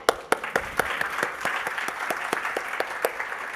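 Audience at a Huntington's disease national conference clapping, scattered individual claps at first that build into steady moderate applause from a room of people, with no talk over it.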